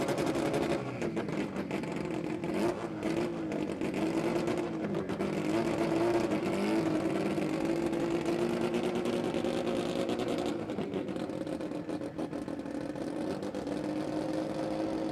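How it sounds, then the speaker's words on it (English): Sports compact drag car doing a smoking burnout at a drag racing event in Brisbane, engine droning at high revs in a steady, loud roar that holds for the whole stretch with slight dips, mixed with crowd and track ambience. "Yep, that's a skid, all right. That's a smoking burnout."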